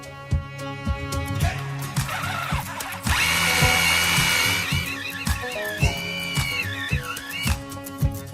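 A power drill drives crate screws through wood and metal, with repeated short whirring bursts and one long sustained run, loud and close.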